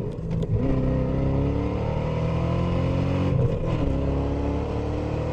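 A Ford V10 runs with its mufflers off, a loud, rough, throbbing rumble close by that swells slightly as it revs and holds continuously throughout, with no talking.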